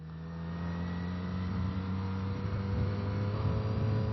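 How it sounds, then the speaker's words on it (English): A motorcycle engine hums and gradually builds in pitch as the bike rides out of the city, a steady muffled drone captured close by with no talking. "I'm very curious to see how my bike sounds"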